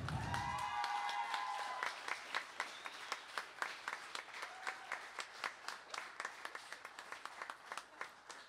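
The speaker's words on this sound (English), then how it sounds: "this is a round of applause from you to you" Graduation audience at a law school ceremony claps in a sustained round of applause, dense at first and settling into distinct, evenly spaced claps that stand out as it thins, fairly quiet overall.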